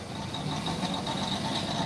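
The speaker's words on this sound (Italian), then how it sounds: "Senti, senti il generatore, senti." A generator runs at four in the morning, giving a steady, continuous mechanical drone with a faint high whine on top. It holds even and unbroken throughout, with no talking.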